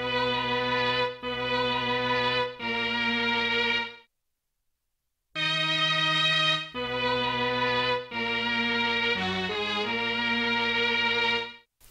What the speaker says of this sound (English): I also then added strings from Distant Sampler